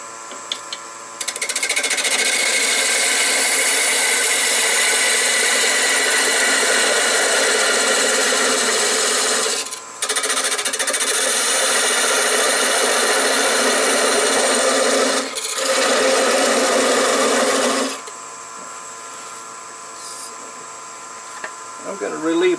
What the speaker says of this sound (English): I have a 1/8 inch parting tool, and we'll cut that off at the 4 inch mark.